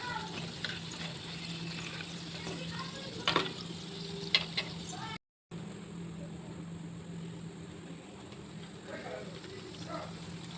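Food frying in a pan in a home kitchen, a steady sizzle with a few brief clinks, cut by a short dropout halfway through before the sizzle resumes; a voice speaks briefly underneath.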